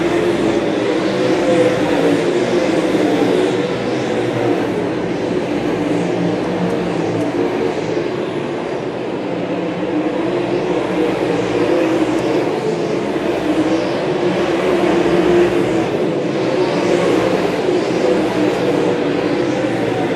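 Race cars roar around the oval at Cleveland Speedway, a dense, continuous engine drone that swells and fades as the pack laps by.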